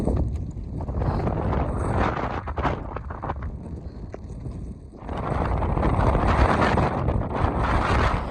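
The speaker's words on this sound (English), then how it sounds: "the wind picked up and I truly felt like I was going to go flying off the mountain" Strong gusts of wind roar across the microphone on a mountain on the Overland Track in Tasmania, buffeting in loud waves that ease briefly before surging again.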